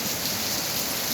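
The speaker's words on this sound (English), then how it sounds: "Grabe ang ulan. Kagabi pa ito." Heavy rain pouring from a house downspout, a steady, dense rushing splash with no break, close and fairly loud, filling the whole short moment with continuous water noise.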